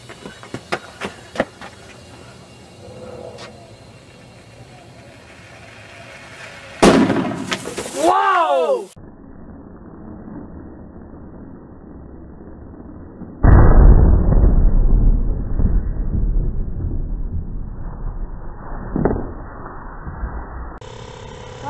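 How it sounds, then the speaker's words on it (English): Pressurized basketball bursting in a residential cul-de-sac: a loud, sharp blast followed by a few seconds of rumbling, echoing noise outdoors, with a quieter stretch and some talk before it. "today we are going to blow up a basketball in the middle of a cul-de-sac"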